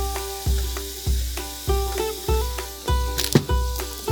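Smash burger patties sizzle loudly on a Ninja Woodfire grill, with a repeated scraping or pressing pulse roughly every half second over a steady hiss, and a few sharper clanks near the end.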